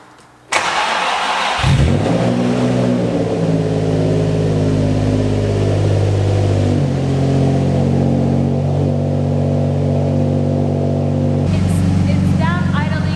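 A Nissan 350Z with a manual gearbox and a dirty throttle body cranks and catches at about two seconds, then settles into a steady, loud mid-pitched idle close by that runs to the end.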